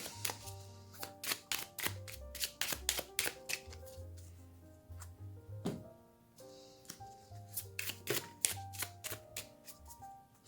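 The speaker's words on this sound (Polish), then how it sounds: "Jeszcze dotasuję karty." Tarot cards are shuffled in a series of quick, crisp riffling and tapping bursts with short pauses between them, close and fairly quiet, with soft music underneath.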